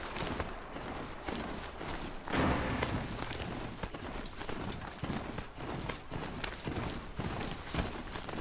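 Video-game horse hooves clip-clop in a steady walking rhythm, moderately loud and continuous, with faint mechanical ambience behind.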